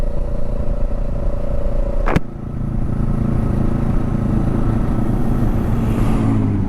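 A 2024 Kawasaki Eliminator 450 fitted with a Coffman exhaust runs at a steady, loud, close engine drone, with a sharp click near two seconds and a brief dip before the rumble resumes.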